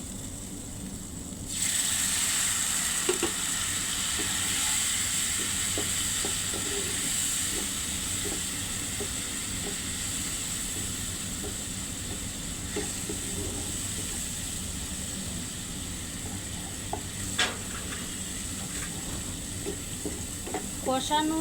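Spices with salt, turmeric, chili and coriander sauté in a pan, a steady soft sizzle with occasional stirring scrapes continuing throughout after a quiet start.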